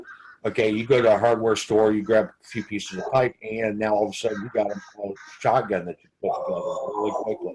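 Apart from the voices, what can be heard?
pet birds cawing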